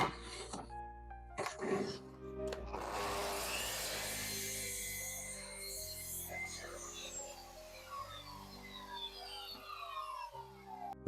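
Wood is sawn for a beginner's candle holder, with a faint, steady rasping stroke pattern that continues for several seconds after a few short knocks at the start.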